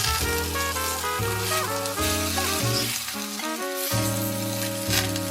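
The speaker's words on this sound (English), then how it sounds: "Put the mushrooms into the pan." Mushrooms fry in cooking oil in a pan, a steady sizzling hiss that sits beneath louder melodic background music throughout.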